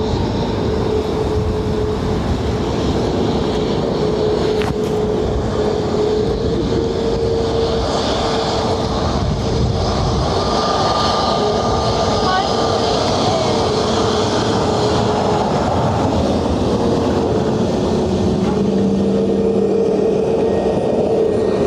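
An Aer Lingus Airbus A321LR arriving from Oslo passes at Dublin Airport with a continuous engine rumble and faint whine, a steady, moderately loud drone with no talking.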